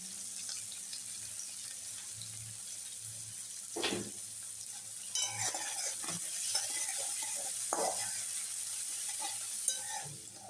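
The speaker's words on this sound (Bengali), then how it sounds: "ভালোভাবে নেড়ে নিচ্ছি।" Ingredients for masoor dal frying in a pan, a quiet steady sizzle broken by occasional scraping stirs and clinks of the spoon against the pan.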